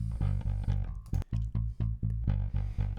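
Dense, distorted Rickenbacker electric bass riff with punchy repeated low notes and a gritty, overdriven edge, played alone.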